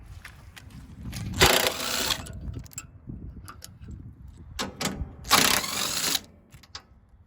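Bolts being removed from the table of a firewood processor, heard as bursts of ratcheting wrench clicks alternating with quieter metallic taps and pauses, close and clear.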